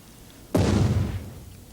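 A balloon filled with hydrogen and oxygen explodes in a single sudden loud boom, followed by a brief rumbling decay that fades over about a second.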